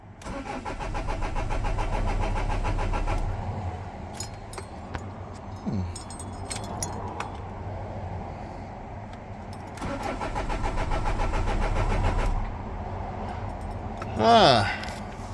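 A Renault Master horsebox with an ABS fault cranks and starts, its diesel engine churning loudly, settling to a rumbling idle, then revving again. Someone speaks between the engine bursts.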